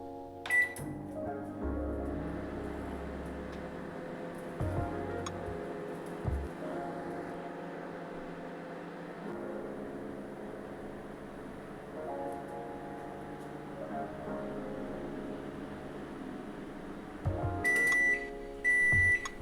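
An oven hums steadily while it cooks fish fry without oil. Sharp electronic beeps sound at the start and again near the end.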